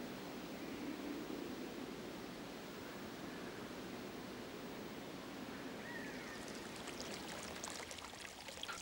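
A forest stream in grizzly bear country flows steadily, giving an even, rushing wash of water that stays constant throughout with no voices.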